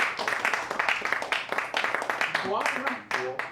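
An audience applauds with a dense patter of clapping, while a voice talks over it and grows clearer near the end as the clapping thins out.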